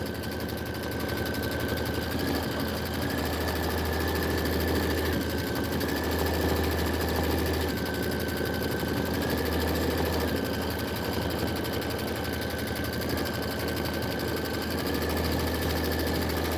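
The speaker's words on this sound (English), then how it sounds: "This is going to be the background quilting. It's 4 minutes of stitching" An embroidery sewing machine stitches background quilting with Glide thread on a Kimberbell Enchanted Winter project, a steady rapid mechanical hum with regular pulsing changes, moderately quiet and continuous.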